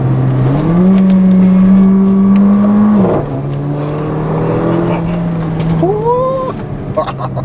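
A 2015 Mercedes-Benz GLA 45 AMG engine pulls hard under acceleration, its pitch climbing, dropping sharply at an upshift, then rising again through another shift, loud and close from inside the cabin.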